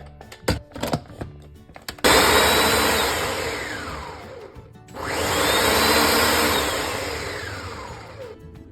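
A mixer grinder whirs loudly through two long grinding runs of green chillies, ginger, cumin and salt, with a few sharp knocks and clicks before the motor starts.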